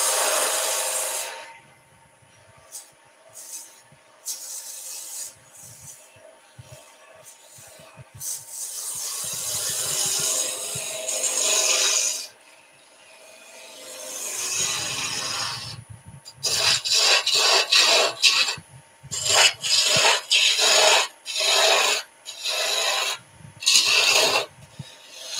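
A spindle gouge cuts and shapes a wooden baby toy spinning on a lathe, giving a rough, raspy scraping that comes in long passes, then shorter rhythmic strokes, close and fairly loud.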